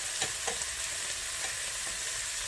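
Peri-peri halloumi sizzles steadily on a hot griddle, a constant close crackling hiss with a few soft scraping ticks, no voices over it.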